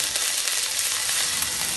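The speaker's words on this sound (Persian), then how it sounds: "یه قاشق سیر این روغن اضافه میکنم" Garlic sizzles steadily in hot oil in a pan, a dense, even crackle from start to finish while cooking shrimp pasta with mushroom sauce.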